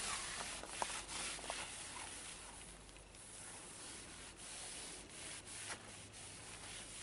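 A cloth rubs oxidation remover over the chalky fiberglass gel coat of a boat in steady, continuous wiping strokes that form a soft, even scrubbing hiss, close by and with no talk.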